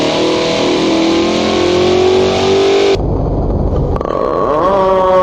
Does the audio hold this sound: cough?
no